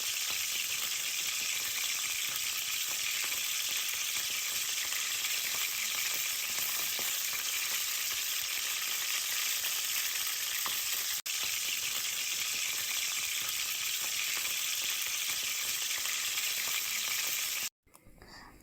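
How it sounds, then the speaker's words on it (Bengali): Shrimp coated in turmeric, chili powder and salt fry in soybean oil with a loud, steady, close hiss that keeps going for a long stretch and then cuts off near the end. "এখন আমি মাছগুলোকে ফ্রাই করে নেব।"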